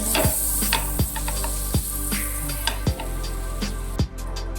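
Butter sizzling in a hot pan as the base for sopas, a steady close hiss broken by repeated sharp scrapes and taps of a utensil against the pan.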